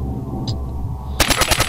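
Gunfire in Resident Evil 4: after a low hum, a loud, rapid burst of automatic shots rattles out in quick succession.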